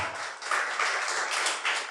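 A church congregation applauds steadily at a worship service, a dense, even wash of clapping at moderate distance with no voices over it.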